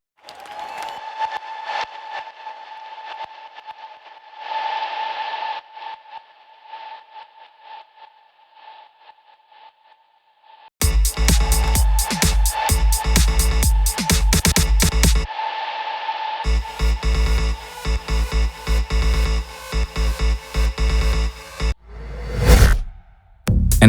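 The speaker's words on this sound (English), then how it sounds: "This sidechain gives a pumping effect which I personally like" Radio production mix with delays and reverbs blended under a sidechain compressor: a quiet sustained tone opens, then loud dense full-band music pumps and swells in bursts, with a brief whoosh near the end.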